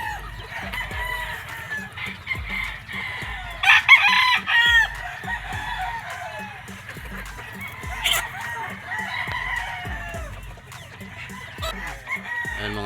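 A gamefowl broodcock of Golden Boy bloodline crows on a farm, with several bursts standing out over a steady background of other roosters crowing and hens clucking at varying distances.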